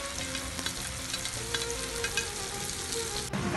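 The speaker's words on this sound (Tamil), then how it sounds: "நல்லா பொரிய விடுங்க, வெங்காயத்தை வாசம் வர பொரிய விட்டா டேஸ்டாகவே நல்லா பொரிய" Onion and tomato fry steadily in a pan, a dense continuous sizzle with occasional stirring clatter, close and loud with no talking.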